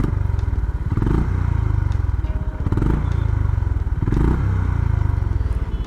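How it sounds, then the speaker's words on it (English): A Honda CB350RS single-cylinder, air-cooled, fuel-injected 348 cc motorcycle idles at a standstill, its exhaust giving a loud, close, steady low thumping pulse with a few periodic surges and mechanical clatter. "So I'm going to come to a complete standstill and now listen to the exhaust."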